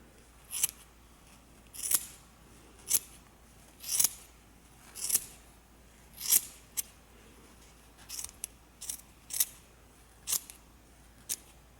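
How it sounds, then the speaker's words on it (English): Scissors snipping yarn loops on a crocheted gnome, repeatedly at a slow, uneven pace, crisp close-up cuts with quiet gaps between them. "I'm just using scissors, and I'm just going to cut all my loops out"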